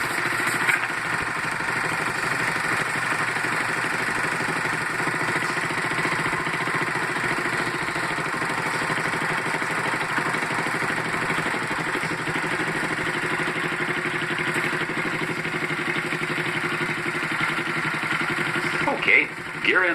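A motorcycle engine idles steadily at a filling station, a close, continuous mid-pitched rumble holding level for the whole stretch, with a brief clatter at the very end.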